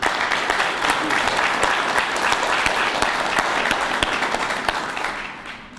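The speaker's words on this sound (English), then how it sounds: "Please give them a round of applause." A crowd applauds at a police department press conference, a dense, steady wash of clapping that holds evenly for several seconds before tapering off at the end.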